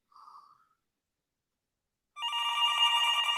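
A telephone rings for an incoming call on a live show, a single loud electronic ring starting abruptly after a short faint tone and near silence, clear and close with no talking.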